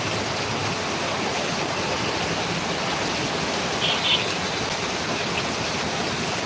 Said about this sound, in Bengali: কোনো ধরনের বৃষ্টির পূর্বাভাস না থাকা সত্ত্বেও মুসলধার বৃষ্টি হচ্ছে